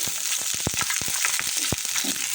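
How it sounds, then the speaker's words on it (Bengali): Slit green chilies frying in hot oil, a loud, dense crackling sizzle with rapid popping bursts and sputters throughout, close and steady. "এখন আমি মরিচগুলো আগে ভেজে নিই"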